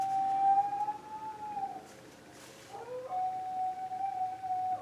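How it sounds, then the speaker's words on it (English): A dog howls in long, wavering wails along with ambulance sirens, two sustained tones with a gliding pause between them, moderately faint and heard alone. "My dog is wailing with the ambulance sirens."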